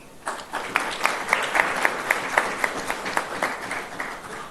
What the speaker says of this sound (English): this round of applause is for many of you that are seated in this room